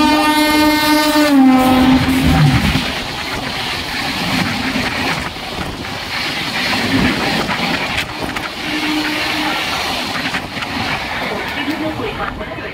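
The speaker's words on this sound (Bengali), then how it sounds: "এই আমাদের ট্রেন বাংলা স্টেশন থেকে বেরিয়ে যাচ্ছে" A local train sounds a loud harmonic horn blast for about two seconds, then rumbles and clatters steadily as it pulls out of Bagnan station on the Howrah to Digha line, with faint voices in the carriage.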